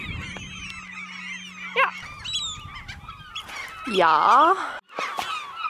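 Seabirds on Senja island, an Arctic Norwegian island, shriek and cry loudly in overlapping bursts, one call rising near and harsh, while a person briefly talks.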